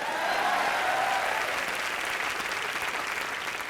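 Steady, dense applause from a comedy show studio audience, loud and sustained throughout with no pauses.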